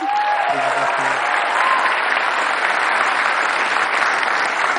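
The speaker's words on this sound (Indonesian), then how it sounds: "Ya, sekali lagi tepuk tangan dong untuk Penta Boys." Studio audience applauding the Penta Boys on a television talk show, a continuous loud wash of clapping, with a brief voice near the start.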